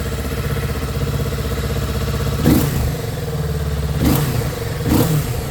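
The parallel-twin engine of a 2022 Kawasaki Z650 RS idles, then gives three short, sharp throttle blips, each rising quickly and dropping back to idle, heard up close with no talking.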